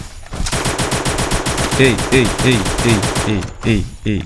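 Rapid bursts of automatic gunfire from the Free Fire battle royale game crackle continuously, with a voice speaking in the background between shots.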